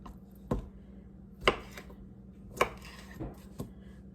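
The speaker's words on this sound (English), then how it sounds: "So next I'll cut up my sausage" Knife chopping sausage into cubes on a cutting board in a home kitchen, a few sharp, spaced thuds at an uneven rhythm, close and fairly quiet with no talking.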